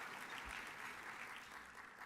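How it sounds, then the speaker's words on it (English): Audience applause at an awards banquet, a steady wash of clapping from a crowd held at a faint distance. "You can applaud for that."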